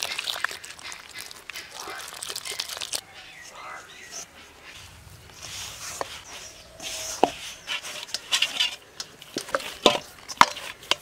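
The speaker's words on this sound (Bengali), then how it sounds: "এবারে এই আটাটা আমি জল দিয়ে মেখে নেব।" Wheat flour dough kneaded by hand with water, giving soft, sticky squelching and slapping sounds in irregular rhythm, close and fairly quiet, with a voice talking at times.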